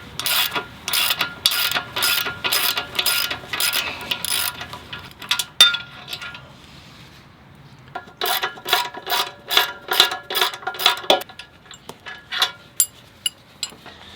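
Bolts come off a trenching bucket's pins under a ratchet wrench: rapid bursts of loud metallic clicking, a pause with a few clinks, then more ratcheting runs, close and with no talk.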